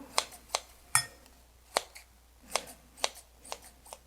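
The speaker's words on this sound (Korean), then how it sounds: "풀어진 거는 가위로 이용해서 이렇게 도마에 자를 필요 없이 가위로 잘라줍니다." Kitchen scissors snip through softened glass noodles for meat dumplings, about eight crisp, close cuts in a fairly even rhythm with quiet gaps between them.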